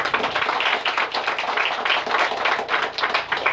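A group of people claps hands in a fast, continuous patter, the claps close and fairly loud, forming an even rhythmic stream with no voices over it.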